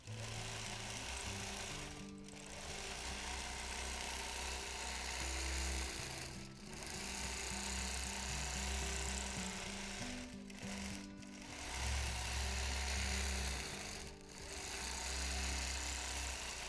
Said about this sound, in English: you'll be able to watch at this upper edge while I quilt right up to that seam allowance